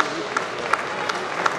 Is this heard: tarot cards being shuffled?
no